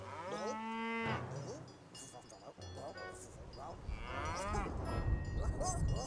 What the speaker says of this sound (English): What are you gonna do with that cow?